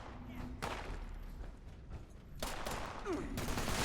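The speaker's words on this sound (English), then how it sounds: "Stop shooting at my crew." Gunfire in the video game Fallout 76, bursts of rapid shots in two stretches separated by a quieter gap, moderately loud over a steady game background.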